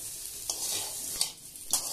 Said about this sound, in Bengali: আদাটাকে আলু ও উচ্ছের সাথে নেড়ে চেড়ে মিশিয়ে নেব এবং 1 থেকে 2 মিনিটের জন্য ভেজে নেব